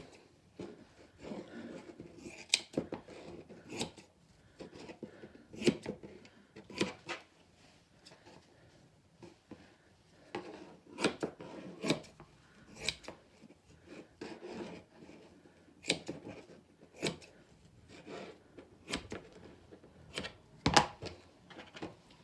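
Scissors cut out a homemade shoulder pad for a Pendleton '49er-style shirt, giving a series of short, sharp snips and rasping crunches in an irregular rhythm, close and fairly quiet, with no talking.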